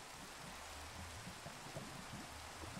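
Rain falling in Minecraft, a soft, steady hiss of drops that stays faint and even from start to finish, with no voices.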